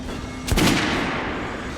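A single loud gunshot on a shooting range in the video game Metro Last Light, a sharp burst followed by a short decay over steady background hum.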